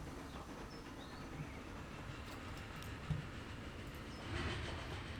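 A New York Central train runs in the video game Transport Fever 2, a faint, steady rolling rumble with soft rail clicks and a low hum throughout, heard alone without talk.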